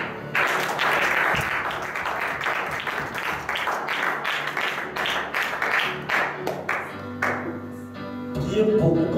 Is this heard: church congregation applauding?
yes